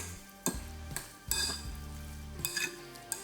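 Stirring lemon juice through a mixture in a bowl, with several sharp clinks and scrapes of a utensil against the bowl spaced irregularly among softer stirring sounds, close and moderately loud.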